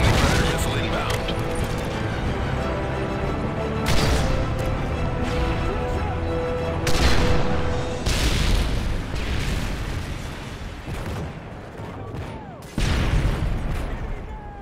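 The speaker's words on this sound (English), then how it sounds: "Friendly Predator missile inbound." Heavy explosions and booms from a Predator missile strike in Modern Warfare 3 land in several loud bursts over continuous battlefield noise, with voices heard between the blasts.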